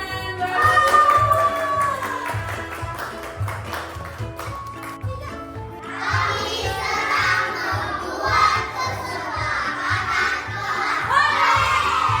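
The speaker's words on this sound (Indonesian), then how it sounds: "Tepuk tangan." A classroom of pupils claps and shouts together, bursts of applause and children's voices rising over steady rhythmic beats, louder in the second half.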